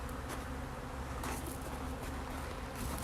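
Honeybees at an open beehive being inspected by a beekeeper hum in a dense, continuous buzz, with a few individual bees droning close by.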